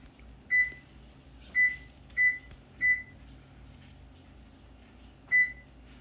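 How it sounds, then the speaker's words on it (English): A kitchen timer is set while a pound cake bakes in the oven. It gives five short, clear beeps: four close together at the start, then one more after a pause, over a quiet room hum. "Set the timer."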